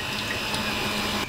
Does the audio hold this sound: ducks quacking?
no